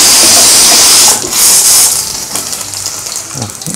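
Fennel and cumin seeds dropped into hot oil for a wedding-style tiffin sambar, giving a loud, steady sizzling hiss that flares briefly and then settles a little quieter, with no talk.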